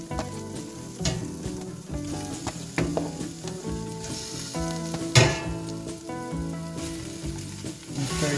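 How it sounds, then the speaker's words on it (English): Roasted vegetables and tomato paste sizzle and fry in a stock pot as a utensil stirs them, a close, continuous crackle broken by clattering scrapes and knocks against the pot. "Stir the tomato paste. Put the roasted vegetables into the pot."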